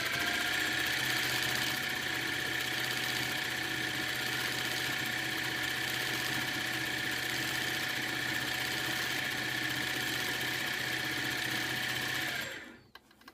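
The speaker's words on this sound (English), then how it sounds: "stitching very close to each other to get that leaf to fill in" A sewing machine couching yarn onto a quilt runs loud and steady for about twelve seconds in dense, close stitches, with a constant mechanical whir and hum, then stops abruptly at the end.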